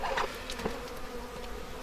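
Honey bees buzz and hum nearby, several insects droning at once with brief louder passes close to the listener, at hives during honey harvest in Akseki.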